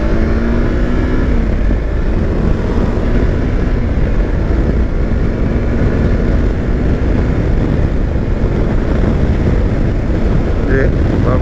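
A Kawasaki Versys X300 motorcycle riding on an open road, its steady engine drone buried under heavy, continuous wind buffeting close to the microphone for the whole stretch.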